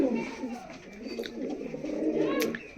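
A Kaldum pigeon gives soft, low, rolling coos close by, partly masked by a person speaking over it.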